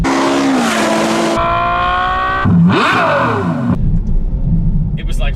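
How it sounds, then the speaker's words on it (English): A Ferrari F12 fitted with an Innotech IPE aftermarket exhaust revs loudly and close by, its engine note climbing and falling through several sharp, rising and dropping sweeps with a brief snarl in the middle. "it wasn't until I heard an F12 with an aftermarket exhaust"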